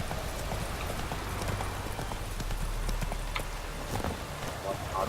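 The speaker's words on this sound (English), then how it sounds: "Run, Roach." A horse gallops in The Witcher 3, rapid rhythmic hoofbeats pounding steadily throughout while a voice speaks over them.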